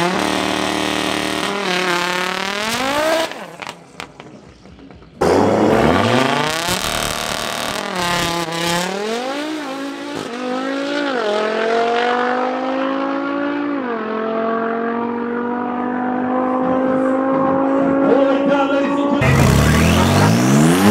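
Race cars scream past at Midvaal Raceway, engines revving hard and sweeping through rising and falling pitch as they pass loud and close, with short gaps between cars and tire noise mixed in.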